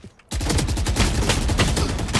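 Gunfire in the tactical shooter Valorant bursts in after a brief quiet, a loud rapid stream of shots with sharp repeated cracks sustained to the end.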